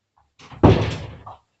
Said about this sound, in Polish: Poczekajcie, bo muszę zamknąć drzwi